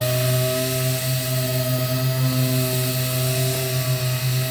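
A dual-action sander wet sanding a Boston Whaler Montauk 17 boat hull with 3000 and 5000 grit 3M Trizac pads, a steady close whine and hum holding constant with no voices.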